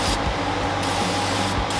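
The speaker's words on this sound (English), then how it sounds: "go ahead and spray it down" Engine degreaser sprayed from an aerosol can onto a Ford F100 engine, a close, continuous hissing spray with brief breaks lasting under two seconds.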